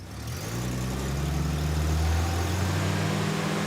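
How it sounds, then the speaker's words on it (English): A car engine being tuned in a garage rises in a sustained rev, a loud steady drone that swells gradually and holds, heard alone. "Go ahead and rev it up."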